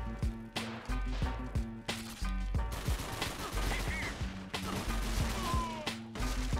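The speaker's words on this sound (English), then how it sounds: "lay some cover fire down for me" Rapid gunfire from the Bulletproof video game on PS2, sharp repeated shots in bursts with a music bed running underneath throughout.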